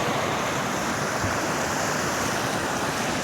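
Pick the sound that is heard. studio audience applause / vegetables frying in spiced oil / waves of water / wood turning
waves of water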